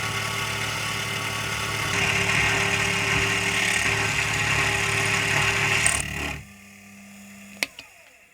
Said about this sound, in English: So I had to widen and reposition the 4 button holes, which at this stage isn't the easiest task to do on my small milling machine.